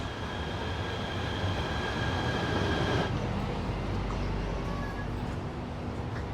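A train stands at a platform in a Kuala Lumpur rail station, giving a steady loud rumble with high tonal hums that drop away midway, continuous throughout with no talk.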